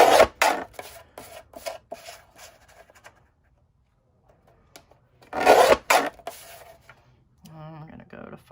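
A paper stencil being trimmed to size for a farmhouse-style decal, with bursts of dry rasping cuts and scraping, a pause of near silence, then another loud scraping burst and a short tonal squeak, close to the microphone.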